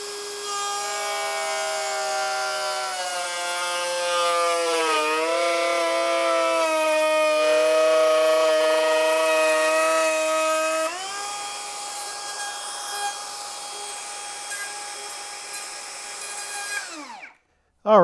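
Metabo HPT cordless 2-1/4 HP router cutting a half-inch-deep groove in a wooden board, a loud steady high whine with the motor pitch sagging under load, then winding down to silence at the end.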